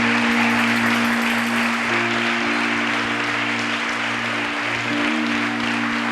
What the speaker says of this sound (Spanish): Dele fuerte otra vez, un fuerte aplauso a Jesús